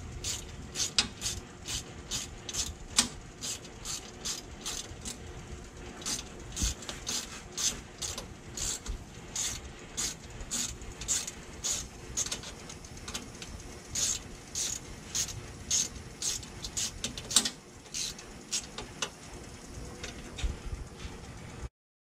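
Ratchet tightening the 6mm screw on a 2015 Mustang GT oil filter cover, a long run of quiet, close, evenly spaced clicks in steady back-and-forth bursts with brief pauses between strokes.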